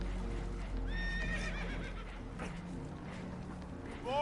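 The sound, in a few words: spooked horses neighing, from video game Red Dead Redemption 2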